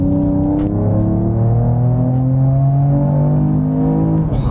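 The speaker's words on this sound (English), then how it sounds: "what an amazing sound coming into a 30." Mercedes-AMG E53 with its loud exhaust opened up on a straight road, the engine note climbing through gears in rising sweeps, close and powerful, easing off toward the end.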